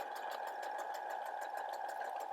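A sewing machine running steadily while stitching a buttonhole with a buttonhole foot on a jacket with interfacing, giving a continuous close, even whir with fast rhythmic needle ticks and no talking.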